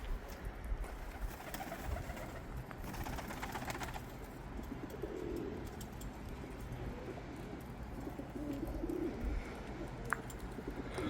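Pigeons cooing inside a coop, soft repeated low coos over a rustling background with a few faint chirps, moderately close and steady throughout, with no speech.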